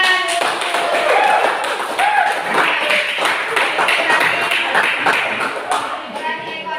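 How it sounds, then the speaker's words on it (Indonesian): Students in a school classroom clap for a classmate who has just finished presenting, giving dense, uneven, close-up hand claps that run for several seconds, with a few voices audible under the applause. "tepuk tangan."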